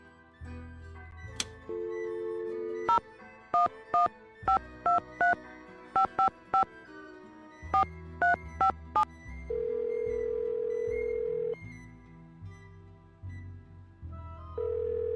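Telephone keypad tones beep in quick bursts, followed by long, steady ringback tones, as a call is placed in the Nancy Drew: The Phantom of Venice video game. The sounds are clear and close, with no talking.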